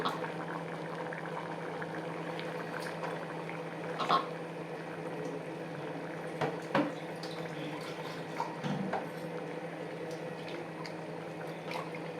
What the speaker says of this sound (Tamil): நல்லா ஒரு கொதி விடணும்